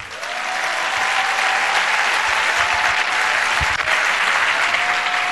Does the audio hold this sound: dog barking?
no